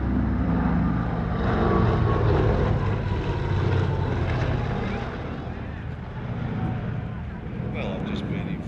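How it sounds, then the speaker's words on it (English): A Lockheed Super Constellation, a stretched propeller airliner with uprated engines first flown in 1951 and painted in a Qantas-inspired scheme, drones loudly at an airshow, its engines producing a heavy sustained rumble that swells and eases. "The Super Constellation is a stretched version of that, with uprated engines, and it first flew in 1951."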